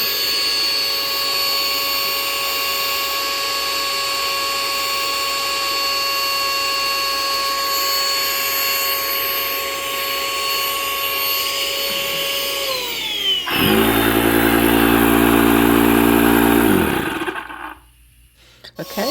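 A Vogma 50psi electric dual-motor SUP air pump drones steadily and loud while inflating an inflatable kayak's chamber, its tone climbing slowly, then shifting to a deeper, heavier roar before cutting out near the end.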